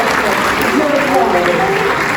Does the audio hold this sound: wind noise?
no